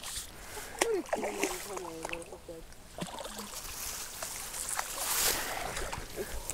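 A hooked carp splashes and sloshes at the surface during fishing. Faint watery splashes come under the outdoor background noise, and people talk nearby.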